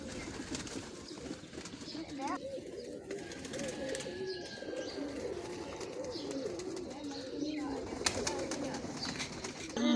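Domestic pigeons cooing on a rooftop loft, soft repeated low coos layered throughout with occasional chirps and wing rustles, a voice talking faintly in the background.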